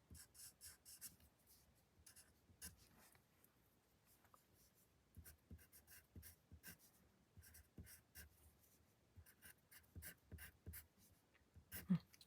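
A pen scratches out calligraphy lettering on paper in a middle school calligraphy class, with short repeated strokes and scraping taps that come close and quiet and stay alone without talk.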